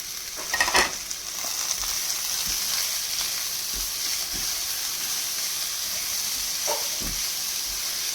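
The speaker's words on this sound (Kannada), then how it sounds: "ಈಗ ಒಂದು ಚಿಕ್ಕ ತೆಂಗಿನಕಾಯಿ ಕೊಬ್ಬರಿ ತುರಿದು ಹಾಕ್ತಾಯಿದ್ದೀನಿ" Grated coconut, cumin and curry leaves fry in a pan with a steady, close sizzle and hiss, broken by a few soft scrapes of stirring near the start and again later.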